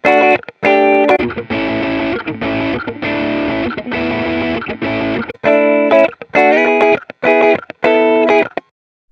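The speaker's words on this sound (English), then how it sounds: "if the input level is too high, all the clean tones will sound louder than the distorted tones" Guitar tone through amp simulation software with the input level set too high, giving output clipping: loud, distorted, harmonic-rich chords in choppy bursts separated by short gaps, alone with no voice.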